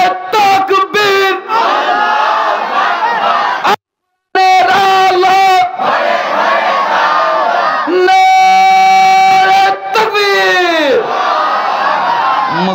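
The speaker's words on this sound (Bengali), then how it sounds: "এবার সবাই মিলে নারে তাকবীর।" A large gathering at a religious sermon roars the takbir together, loud sustained massed voices in several surging waves with a brief silent gap, close and dominating.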